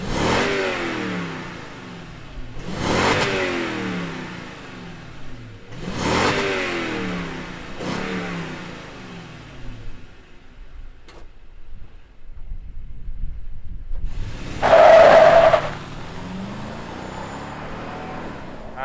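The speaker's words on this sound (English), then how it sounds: "let's fire it up and hear what the V8 sounds like" The V8 of a 2021 Toyota Sequoia TRD Pro fires up and is revved hard in several sharp bursts, goes quiet, and then gives a final rise and settles into idle close by.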